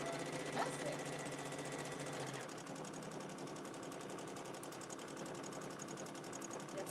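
A domestic sewing machine runs fast while free-motion quilting feathers, a quiet, steady rapid mechanical chatter continuing throughout at low level.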